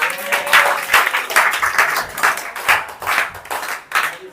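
Students in a classroom clap together in a steady run of rhythmic applause, loud and close, filling the room with repeated bursts.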